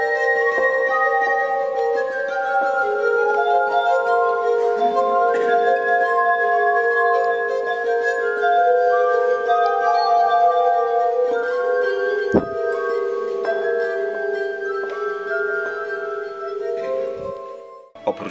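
The world's largest harp played at a concert, soft plucked notes layered into shimmering sustained chords, bright and bell-like, continuous with light room noise.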